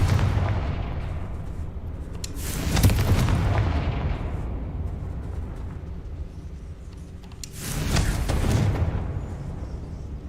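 Confringo blasting spell explosions in Hogwarts Legacy, two heavy booming blasts several seconds apart, each with a rumbling tail that fades into a quieter background.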